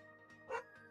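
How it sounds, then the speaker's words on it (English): A single short dog bark rings out in the middle, moderately loud over a low steady background hum indoors. "Why is she barking?"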